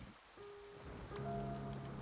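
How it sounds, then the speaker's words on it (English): Soft, quiet patter of steady rainfall in the video game A Bird Story, with a faint musical tone rising underneath, gentle and distant. "It's raining."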